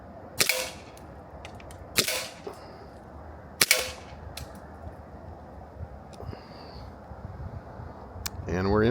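Sig Sauer Emperor Scorpion 1911 CO2 BB pistol fired in quick succession: sharp cracks spaced roughly a second or two apart, fairly close, with light background noise and a short squeak near the end.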